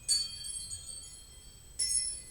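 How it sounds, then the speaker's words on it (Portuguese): A small bell is struck twice indoors, each a bright, ringing chime that fades out, the second following after a pause. "vou tocar o sino aqui para falar esse tema"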